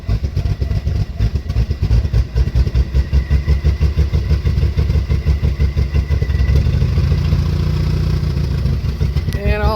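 A Studebaker engine runs again after new plugs, its rough, throbbing idle pulsing steadily and loud up close, swelling slightly toward the end before a brief clatter.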